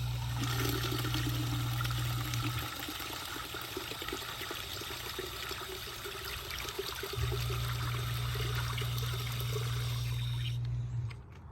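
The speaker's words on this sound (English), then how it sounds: "This bucket we use to flush down the tank after we've drained it" Water pours steadily from a bucket to flush an RV's black water tank after draining, a continuous close rushing wash with a low steady hum beneath, fading out at the very end.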